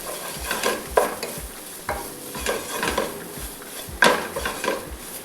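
Tomato puree stirred into carrots and onions in a pan: repeated scraping strokes of a utensil against the pan, with soft sizzling underneath, close and fairly quiet.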